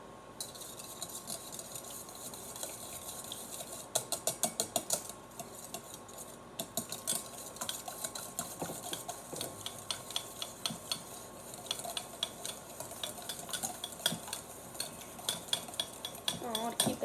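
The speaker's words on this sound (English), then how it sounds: "Now I'm gonna whisk all of these remaining ingredients together." A whisk ticks rapidly against the bottom of a bowl, mixing fresh pasta ingredients, a steady stream of close, light metallic clicks and scrapes that keeps going without pause.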